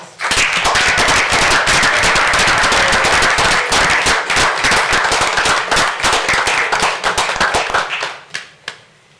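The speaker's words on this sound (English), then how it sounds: "Can we all give him a round of applause?" Loud, dense audience applause fills a city council meeting chamber in Midvale, steady sharp clapping that thins out into a few last scattered claps at the end.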